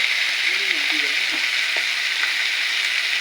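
Eel in a spicy home-style curry paste fries in a pan with a dense, even sizzle and stirring that carry on steadily and close, with a few faint clinks and a brief low murmur of talk.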